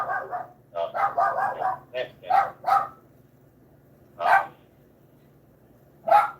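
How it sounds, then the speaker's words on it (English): A dog barks in a quick cluster of yaps, then a few single barks spaced apart, fairly close, over a low steady hum. "So we hear him barking in the background"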